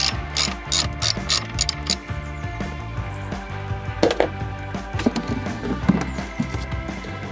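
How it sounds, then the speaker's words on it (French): A 13 mm socket ratchet backing out a screw that holds a small plastic panel during car maintenance, giving bursts of quick clicking pawl ticks followed by scattered metallic clinks and handling noise, close up and with no voices. "on retire cette petite planchette en plastique en dévissant cette vis avec une douille de 13"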